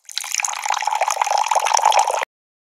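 Water pours or trickles for about two seconds, a steady bright splashing that stops abruptly.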